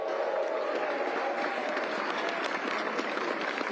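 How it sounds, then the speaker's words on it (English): Crowd of runners and spectators clapping at the kickoff of a mountain skyrace in a resort village, dense, loud, continuous applause throughout. "so let's clap for that"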